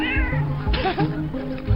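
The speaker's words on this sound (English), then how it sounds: "Cat." A cat gives a loud, close drawn-out meow with wavering pitch, followed by shorter cries over a faint background hum.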